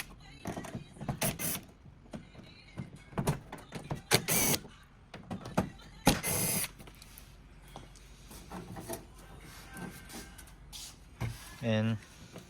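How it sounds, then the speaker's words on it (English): Screws being removed from the metal back panel of a display: repeated scraping, rasping turns and clicks in bursts, close by, with a brief whirring toward the end and faint talk at times. "the first thing you need to remove these 4 screws."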